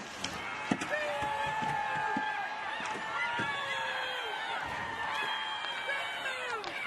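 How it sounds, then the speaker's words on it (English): An active crowd cheers and shouts in a hockey arena during a PWHL women's game between the Minnesota Frost and the New York Sirens. Excited yells and whistles rise over the general noise, with sharp stick and puck clacks scattered throughout. "You can hear the active crowd getting involved here midway through this game"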